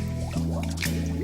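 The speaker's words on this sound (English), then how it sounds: "If you take an empty glass and try to push it underwater, the air in the glass pushes against the water. By tilting the glass, you let the air escape." Air escapes from a tilted glass held underwater, giving quick wet glugging drips and squishy bubbling pops in a short, close burst.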